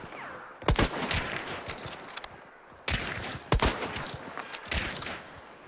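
Gunfire in the online shooter Hunt: Showdown, with several sharp shots and short bursts spread across the moment. Some are close and loud, others are more distant, and they sit over a steady ambient background.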